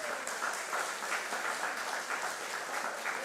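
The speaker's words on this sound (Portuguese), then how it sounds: "Aplauda ao Senhor." A church congregation applauding during a Sunday service at Nova Vida de Jardim Catarina, dense, steady clapping that fills the room evenly at moderate loudness.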